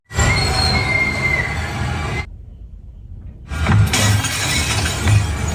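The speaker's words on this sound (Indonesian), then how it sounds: "Sontak saja Patrick pun memecahkan kaca jendela dan berteriak untuk membangunkan anak dan istrinya." Window glass smashes loudly in a horror film scene, a bright crashing shatter that cuts off abruptly, followed after a pause by another burst of crashing glass and debris with heavy low thuds.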